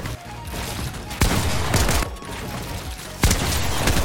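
Pump shotgun blasts in a video game, three sharp loud shots spaced about a second apart, each followed by a short rumbling tail.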